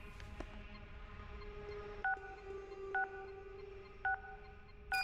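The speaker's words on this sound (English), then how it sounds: "It sounds like a phone." Phone-like electronic tones from the Silent Hill video game: a steady low hum with four short, evenly spaced beeping bursts, like a telephone ringing or dialing, quiet and alone with no talk.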